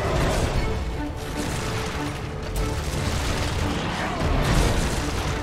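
Gunfire in the video game Resident Evil 6 comes as dense, continuous bursts of booming shots and impacts with little pause, loud and busy throughout.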